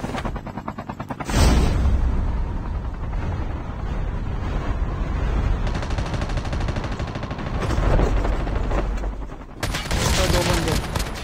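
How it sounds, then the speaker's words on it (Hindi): Rapid gunfire and explosions in the mobile shooter Call of Duty Mobile, loud and continuous with bursts of automatic fire and heavy blasts, running the whole stretch with wind-like roar underneath. "यहाँ पर फायरिंग हो रही है।"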